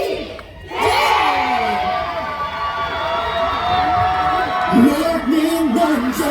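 Festival crowd at an outdoor riverside sweetfish festival in Bonghwa roars and cheers loudly and continuously as a singer is called to the stage, with shrill screams and shouts layered over a dense wash of voices.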